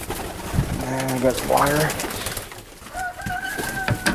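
Italian Owl pigeons cooing in a loft during a winter storm, several soft rolling coos up close, with someone talking over and between them.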